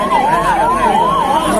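An ambulance siren wails nearby at a peaceful street protest in Malkhed. Its tone swoops up and down in a steady, repeating cycle.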